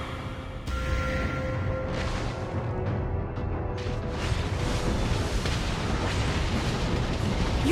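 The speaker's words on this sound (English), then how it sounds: "Your team destroyed a turret!" Loud, dense game battle din in a MOBA match as a turret is destroyed: heavy booming blasts and crackling impacts layered over continuous combat noise, with a higher tonal chime early on.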